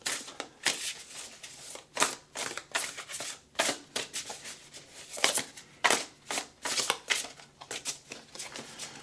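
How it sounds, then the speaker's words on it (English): Tarot cards being shuffled by hand, a series of crisp riffling and slapping bursts in an irregular rhythm, close and fairly quiet, with no speech. "We're going to shuffle."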